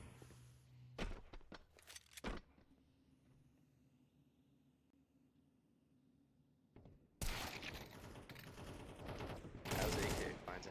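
Counter-Strike AK rifle fire in a competitive match, several sharp bursts early on, then two long dense loud volleys near the end, with quieter ambient game noise between.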